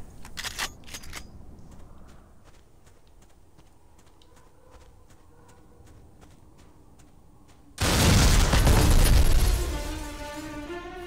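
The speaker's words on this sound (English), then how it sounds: "Fuck, that explosion was big." A big explosion goes off in the video game EA Black, a sudden loud burst with a roaring tail that fades out slowly. Before it comes a run of sharp clicks, typing and gunshot-like taps.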